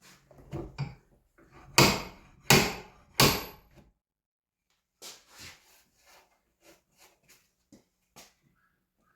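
A hammer and dolly strike the metal wing panel on a Citroen C3 Picasso being straightened after an accident: three loud sharp blows, then a run of lighter, spaced taps, with short knocks and quiet gaps between.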